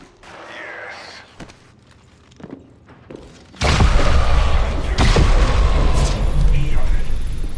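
Video game gunfire erupts as a sudden loud blast followed by a sustained roaring burst of shots and booms, preceded by quieter sharp clicks and low in-game ambience.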